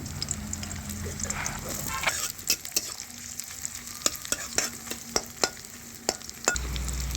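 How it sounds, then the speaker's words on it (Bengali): Chopped onions drop into hot oil in a wok and fry with a steady, close sizzle, broken by a run of sharp scraping stirs and knocks from a utensil; the hiss swells again near the end. "তেল গরম হয়ে গেছে, এবার এর মধ্যে দিয়ে দিলাম পেঁয়াজ কোচানো।"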